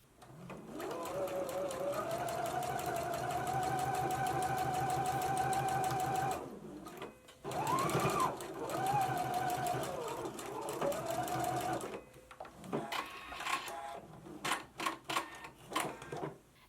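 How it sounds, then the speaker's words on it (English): A home sewing machine stitching a 5/8-inch seam on a McCall's 8001 garment, whirring in a long steady close run, pausing briefly, then resuming before ending in short stop-start bursts. "you can go ahead and stitch it at a 5/8 of an inch seam allowance"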